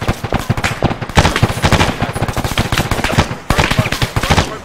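Rapid machine gun fire from a gunner positioned in a tower, loud and close, in long rattling bursts with brief gaps between them, under excited shouted talk.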